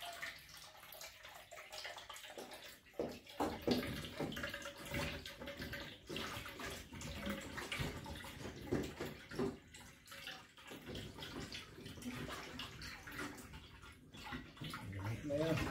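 Water trickles and gurgles steadily as it drains from a water dispenser during cleaning, faint and uneven, with soft splashes and a quiet voice now and then underneath.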